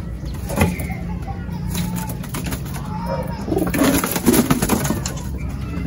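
Pigeons coo softly in low, rounded calls amid rustling and fluttering, with a faint voice murmuring in the background.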